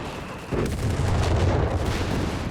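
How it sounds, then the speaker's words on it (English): British and American armored vehicles explode in a Company of Heroes 3 battle. A sudden loud blast sets off a continuous rumbling barrage of booms and crackling detonations that stays dense and heavy throughout. "British and American armor continues to blow up here"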